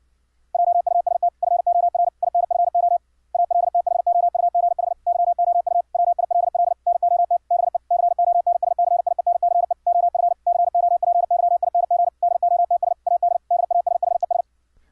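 Morse code CW at about 70 words per minute, played back from an audio file as a steady single tone keyed in rapid bursts, loud and clean with no voices, running almost continuously with one brief gap.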